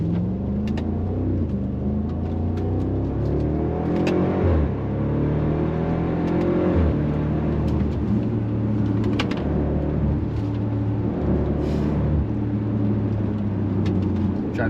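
A BMW X5 50i fitted with Valvetronic Designs universal mufflers rumbles deep and loud at close range, its revs swelling and easing in gentle waves over a constant low drone with no talking.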